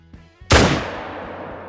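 A single loud, close .303 rifle shot in theHunter Call of the Wild, a sharp crack followed by a long rolling echo that slowly fades, preceded by a couple of soft clicks.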